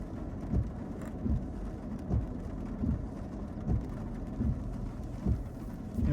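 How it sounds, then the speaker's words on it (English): Steady rain hisses on a road, with low rumbling swells recurring every second or so like passing traffic or distant thunder. "But the rain is falling."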